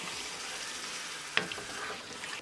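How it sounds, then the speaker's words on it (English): Marinated fish being stirred into a biryani pot over heat, a soft steady sizzle with one sharp scrape of the spoon partway through. "Now mix it well."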